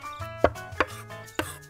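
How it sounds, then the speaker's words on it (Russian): A knife chops garlic finely on a board for a paella with meatballs, giving three sharp, close taps at uneven intervals over a faint, steady background tone. "Поэтому его сильнее измельчаю."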